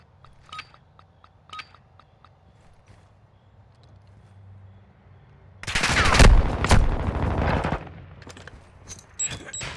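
Video game shooter gunfire, a few sharp shots early then a loud sustained burst of rapid automatic fire lasting a couple of seconds, followed by scattered single shots.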